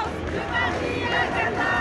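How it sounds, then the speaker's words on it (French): Protest crowd on the place du Châtelet in Paris, amid Palestinian flags, a dense, steady roar of many voices with a loud hubbub throughout, individual chanted slogans not clearly distinct. "Dans la foule, au milieu des drapeaux palestiniens, les slogans fusent."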